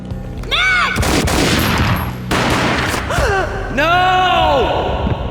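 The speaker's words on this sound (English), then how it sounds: "A gunshot boomed and she fell down in slow motion." Gunfire bursts and a booming shot from the 2001 PC game Max Payne, loud and close, mixed with gasps and vocal cries.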